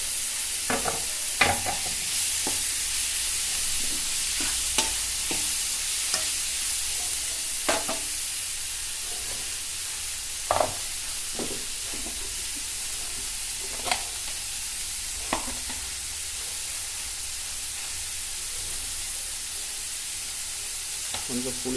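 Onions and tomatoes sautéing for a chutney sizzle steadily in a pan, punctuated by intermittent scraping clicks of a spatula stirring, close up with a quiet voice occasionally underneath.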